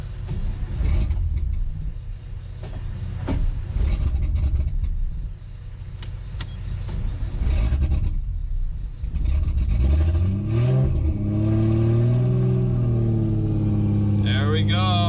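A Nissan 240SX engine running off a booster cranks over and fires up, then rumbles and revs with rising and falling pitch, close and loud, with a voice heard over it.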